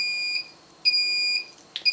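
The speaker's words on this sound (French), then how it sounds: "On entend qu'elle bip, donc qu'elle se met en marche." A 3D UP mini 3D printer beeps as it powers on, giving clear high electronic tones in a short pattern of repeated beeps, near and alone in a quiet room.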